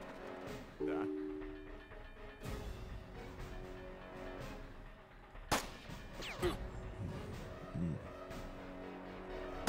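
Several gunshots in the video game Jagged Alliance 2 1.13, sharp isolated cracks a few seconds apart among quieter game sounds, with soft talk in places.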